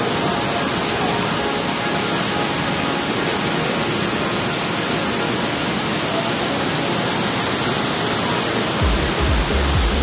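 Rushing water of an Indonesian waterfall heard from about a meter away, a loud, dense, continuous roar that fills the whole clip with no pauses.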